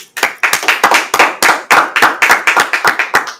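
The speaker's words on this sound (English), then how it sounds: "All right, let's clap it up." A group claps in steady unison at a scripture teaching gathering, sharp evenly spaced rhythmic claps, loud and close, roughly three per second with no talk.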